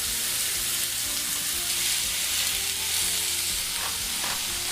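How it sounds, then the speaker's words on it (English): Thinly sliced beef for a Philly cheesesteak fries in a hot pan, making a loud, continuous, even sizzle with no talking. "So let's get this quickly cooking."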